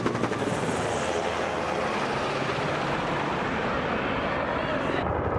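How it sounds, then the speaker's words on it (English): Steady, loud rotor and engine roar of three military helicopters, a UH-60 Black Hawk, UH-72 Lakota and UH-1 Huey, flying overhead at a veterans event, a dense continuous wash of noise that fades slightly near the end. "The event ended with a military flyover of 3 helicopters"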